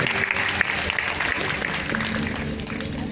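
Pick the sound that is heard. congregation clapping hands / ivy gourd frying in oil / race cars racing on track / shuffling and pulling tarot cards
congregation clapping hands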